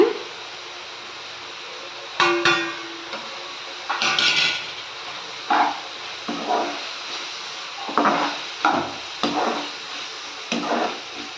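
A spoon stirs ground mustard and fenugreek into a green chilli tamarind curry in a pan, giving irregular scrapes, clinks and knocks spaced a second or two apart against a quiet room.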